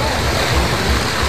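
Floodwater from a burst river bank pours through Kampung Melayu Sri Kundang near Kuang in a 2022 flash flood, a loud, unbroken roaring torrent close by.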